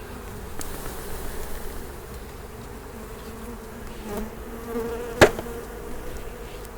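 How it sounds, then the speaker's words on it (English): A low, steady hum of many bees buzzing close by, with a sharp tap or knock partway through. "That's a lot of bees."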